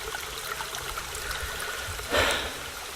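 Spring water flowing steadily outdoors, a soft continuous trickle and babble heard close, with a brief louder splash near the end.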